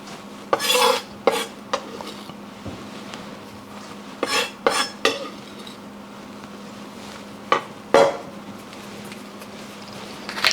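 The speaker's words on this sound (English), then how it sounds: "Next step is to combine your ingredients. So add in the garlic," Garlic and other ingredients for Vigan longganisa being combined in a bowl, with scattered clinks and scrapes of a utensil against the bowl separated by quiet stretches.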